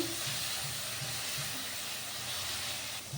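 Onion and tomato frying in a pan and being stirred, heard as a continuous close sizzling hiss with faint, regular low scraping from the stirring and no voices.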